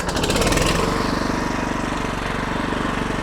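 The petrol engine of a Weibang WBGT6813 tracked hammer shredder, started cold with the choke on by a pull cord, fires up and runs in a loud, close, rhythmic chugging with no speech over it.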